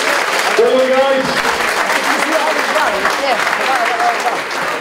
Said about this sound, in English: let's give both boxes a round of applause